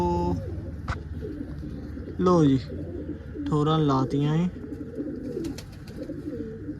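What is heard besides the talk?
pigeons cooing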